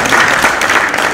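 Guests at a Rwandan wedding celebration applaud in a brief, dense wash of clapping, loud and close, with no pauses.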